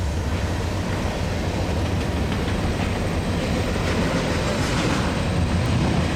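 CN freight train led by locomotives 2931 and 3829 passing at Lynden Rd in Brantford, Ontario, eastbound with 594 axles, a steady loud rumble and clatter of rolling wagons throughout with no talk.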